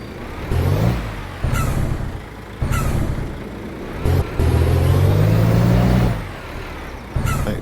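Air brakes hiss in short bursts from a Volvo truck pulling a trailer in Euro Truck Simulator 2, between steady diesel engine drone and a rising rumble as the rig rolls downhill.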